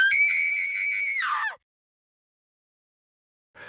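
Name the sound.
person screaming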